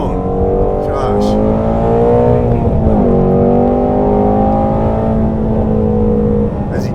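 A Speedkore-built all-carbon-fiber Shelby GT350R Mustang with a 526-horsepower engine and 8,200 RPM redline revs hard, a loud, close, steady high-pitched engine howl with a brief dip and climb in pitch, with a voice speaking underneath.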